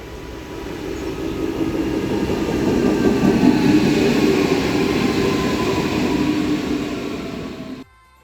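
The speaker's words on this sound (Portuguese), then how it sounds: "Ah, tá vindo até um trem ali, ó." A train arriving at a station in Germany rumbles steadily past at close range, a broad low roar swelling and holding for several seconds before cutting off abruptly.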